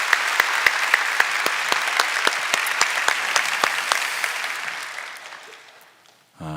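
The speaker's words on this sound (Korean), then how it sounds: "격려의 박수 하십시다." A church congregation claps in encouragement during a service, a dense steady round of applause that fills the room, then gradually thins and fades out before a voice briefly begins at the end.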